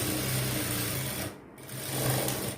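A sewing machine stitches a seam on an open back blouse, a close, steady whirring run that briefly pauses midway and then resumes.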